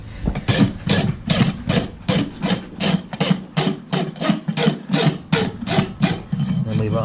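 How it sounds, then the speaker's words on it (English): A farrier rasps a shod horse's hoof, producing a loud, steady run of coarse back-and-forth scraping strokes, about two per second, close up and continuing without talk. "Then we rasp them to the right length."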